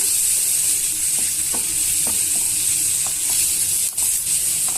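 Onion and green chilli pieces frying with turmeric in a pan, a loud, dense, continuous sizzle with faint stirring knocks underneath, close and steady throughout.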